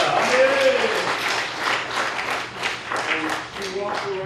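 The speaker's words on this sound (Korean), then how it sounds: "영광의 박수 하나님께 보내드립니다" Congregation applauding at a church revival meeting, a continuous patter of many hands clapping that swells and dips, with voices and a brief tone or shout mixed in near the start.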